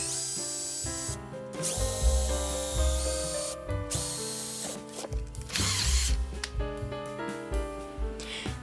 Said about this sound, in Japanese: 10ミリくらいの切りで上下からゆっくり開けました